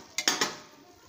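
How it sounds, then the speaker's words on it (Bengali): A spoon knocks and scrapes inside a pan of carrot halwa as cardamom powder is stirred in. Three quick metallic clanks come close together, then fade into a soft hiss. "এলাচের গুঁড়িটা দিয়ে দিচ্ছি, দিয়ে আমি এটা ভালো করে নাড়চাড় করে নেব"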